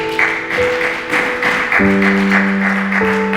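A church congregation claps in rhythmic applause while a sustained organ or keyboard chord plays underneath, the steady clapping loud and close throughout.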